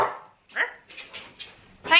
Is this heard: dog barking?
yes